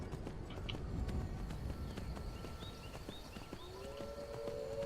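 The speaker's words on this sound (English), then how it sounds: "Golden Song is the name of the horse." Horse hooves clopping at a walk in the video game Skyrim, a steady rhythm of close steps with faint tonal chirps and whistles in the background.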